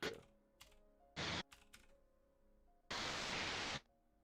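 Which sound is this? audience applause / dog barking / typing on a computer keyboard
typing on a computer keyboard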